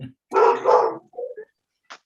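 A dog barks in two close bursts near the microphone, followed by a couple of shorter, fainter yips, with quiet pauses between.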